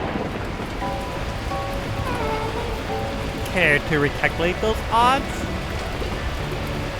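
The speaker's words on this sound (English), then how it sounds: "At that moment, the heavens opened up, unleashing torrential rain." Heavy torrential rain in the video game Beacon Pines, a steady dense hiss running throughout, while a voice speaks a line over it and brief musical tones chime in the middle.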